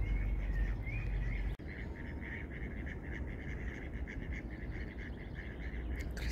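A chorus of ducks quacks continuously at a distance over steady wind and outdoor rumble.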